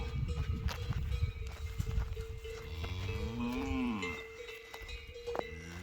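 Cattle being herded and sorted on a farm, with repeated moos, including a long drawn-out low call, over clanking cowbells and shuffling hooves close by.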